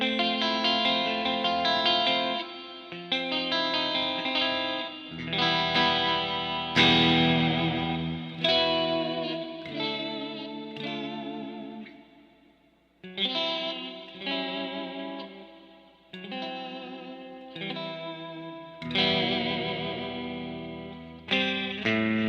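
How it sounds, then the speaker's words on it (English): An electric guitar plays through the clean channel of a Mesa Mark IV amplifier with reverb added, ringing chords and picked notes in phrases with short pauses between, decaying smoothly into a reverberant tail, loud and up close. "Gonna add some reverb."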